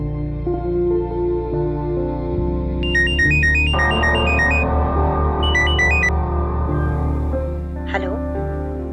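A mobile phone ringtone plays a bright, repeating electronic melody in two bursts over a steady music bed, with a sharp chirp near the end.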